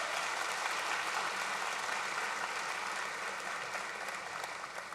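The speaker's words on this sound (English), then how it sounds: "You can clap again for him." Steady applause from a high school graduation audience, a soft, distant wash of many hands clapping continuously without pause.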